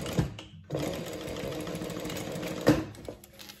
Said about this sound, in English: I'm not changing my stitch length for this. I'm just gonna go ahead and sew.